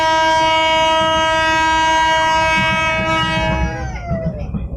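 A loud, sustained multi-tone train horn blares steadily at a station, then fades out as low rumbling and clatter of the Raja Basah passenger train continue underneath, in Lampung.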